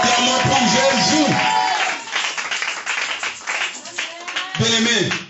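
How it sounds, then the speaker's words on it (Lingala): A church congregation claps and applauds for Jesus, with dense rhythmic clapping mixed with loud voices. The sound thins briefly midway, then swells again. "Acclamons pour Jésus."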